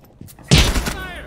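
Gunfire in the tactical shooter Rainbow Six Siege: a short, loud, close burst erupts midway, then trails off into ringing noise, with a faint voice and game sounds just before it.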